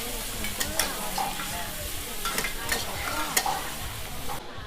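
Hoi tod, a fried mussel pancake, crackling at a market stall at the Wat Saphan floating market: a dense, loud, continuous sizzle with scattered clatters of stirring and scraping.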